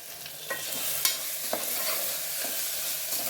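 Mixed vegetables and half a spoon of garam masala frying in a pan for pudina rice: a close, steady sizzle with a few sharp stirring scrapes and clinks, no voices.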